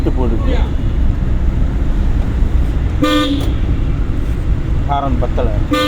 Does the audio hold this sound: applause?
no